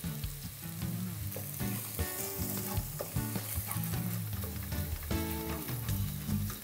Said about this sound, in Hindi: देखो अंडे को ऐसे फ्राई कर लिया मिर्च के साथ